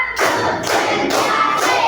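A group of children claps their hands together in unison, several loud, evenly spaced claps close by.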